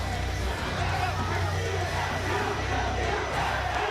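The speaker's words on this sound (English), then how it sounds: "They're chanting in unison at Samoa Joe" A wrestling arena crowd at a TNA Genesis 2006 match chants together after a submission finish, a dense, steady roar of many voices that fills the whole stretch without a break.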